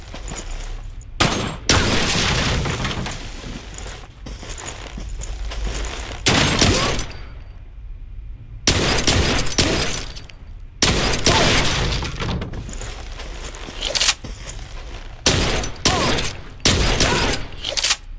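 Gunfire in the shooter game Blue Estate, loud dense bursts of rapid shots coming in several waves with short pauses between, mixed with shattering and impact noises.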